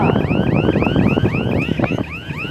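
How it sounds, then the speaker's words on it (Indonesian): A loud, repeating wailing alarm with rapid rising sweeps at a drag race on an airbase circuit in Makassar, sounding over heavy engine rumble and wind noise outdoors. "Alarm telah berbunyi"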